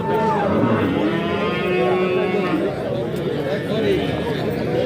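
Cattle moo repeatedly at the Mastchoh livestock market. The drawn-out lowing calls sound close, under steady crowd chatter and nearby talking.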